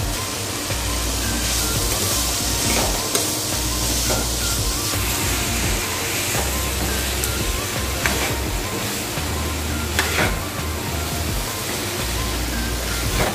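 Ash gourd and other vegetables frying in a pan, a continuous loud broadband sizzle like rushing spray that holds steady throughout with slight swells and occasional faint clinks.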